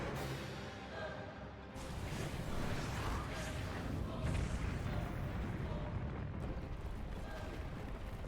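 A stylized explosion from a Zelda trailer shown during a February 2023 Nintendo Direct booms and rolls out at a low level, a broad blast mixed with music and effects rather than a single clean bang.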